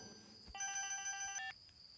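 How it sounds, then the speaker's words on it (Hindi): A telephone rings once in a dramatic Hindi-dubbed film scene, a bright electronic ring burst of about one second that stands out loudly against quiet room tone, with no talking over it. "फोन बज रहा है।"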